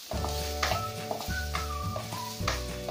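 Finely chopped capsicum and carrot frying with onion in a pan for white sauce pasta, giving a steady sizzle with stirring scrapes, heard under tonal background music.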